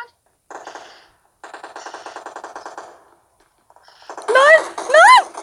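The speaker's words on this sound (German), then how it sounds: "wir werden schon beschossen" Automatic weapon fire in the video game PUBG comes in short rapid bursts, with a voice speaking over the final bursts.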